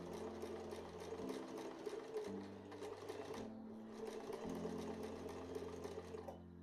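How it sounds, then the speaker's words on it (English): A sewing machine runs steadily, stitching stripes close to the edge of a fabric doublet, its motor whirring with rapid needle rhythm that briefly pauses and shifts pitch. "My machine has a setting that puts the needle to one side, which I use for anything where I'm trying to stitch as close to a line"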